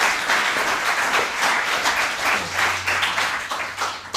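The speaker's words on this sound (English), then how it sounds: "let's give her a warm round of applause" A Pecha Kucha Longmont audience gives a presenter a warm round of applause, dense steady clapping from many hands filling the room with no talk over it.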